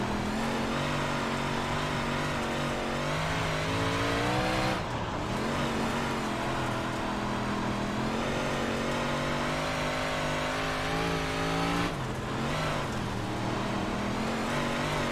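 A big block modified race car engine in iRacing drones loud and steady at Cedar Lake Speedway, holding a constant high roar with two brief lifts in throttle before it pulls back up.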